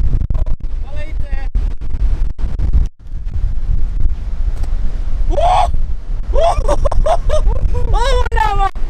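Strong wind buffets the microphone atop a large sand dune in Sweden, a loud continuous low rumble with sharp gust thumps, while people talk and shout over it.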